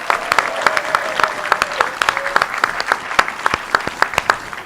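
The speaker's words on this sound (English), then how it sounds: "Everybody just give her a big," A room of Rotary Club members in Tucson claps together in a steady, moderately loud round of applause, with individual hand claps distinct within the group and no voices on top.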